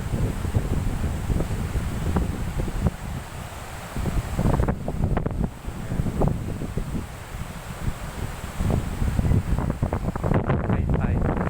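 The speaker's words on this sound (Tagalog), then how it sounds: "Ganito ang high tide ng dagat." Wind buffets a microphone at the seashore as high tide comes in among mangroves, with a steady gusty roar and faint water wash under it.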